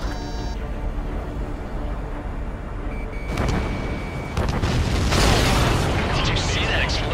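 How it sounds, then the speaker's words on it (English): An enemy supply ship explodes in the Ace Combat 7 flight game. Heavy, rumbling blasts burst loudly over steady jet-engine roar, with a second surge following moments later and voices intermittently present. "Did you see that explosion? Looks like that's one of them down."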